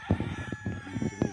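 A rooster crows at a large breeding farm in Lipa City, Batangas, Philippines, a short close call in several bursts, loud and alone with no talk.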